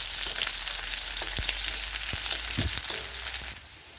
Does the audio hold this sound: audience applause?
no